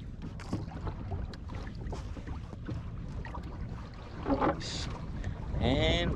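A small boat sailing through Florida wilderness waters, steady wind rush and water wash against the hull, with splashing and creaking swelling near the end and faint voices in the background.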